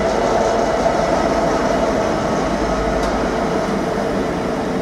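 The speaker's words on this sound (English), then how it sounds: "now coming through platform 1 is 66788 locomotion 15" Class 66 locomotive 66788 Locomotion 15 hauling an intermodal freight through Derby Road station, a loud continuous rumble and drone of engine and wagons passing close by without pause.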